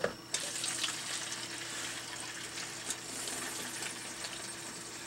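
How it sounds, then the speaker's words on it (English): Water gurgles and spatters in a coolant dispenser, a soft steady trickling wash with a sudden onset and occasional small splashes, fairly quiet and close. "Now the fact that I hear gurgling up there makes me think that there's still some water on there."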